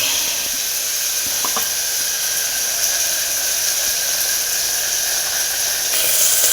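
Food frying in a pan gives off a steady, loud hiss and sizzle that fills the whole stretch, close up, with a few faint clicks and no voices.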